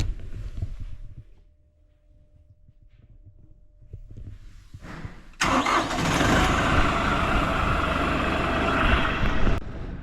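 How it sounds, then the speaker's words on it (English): A large tractor engine cranks, then catches and roars to life, settling into a loud rumbling idle nearby on a Montana ranch in winter. "let's get the fire tractor up. The tractor fired up."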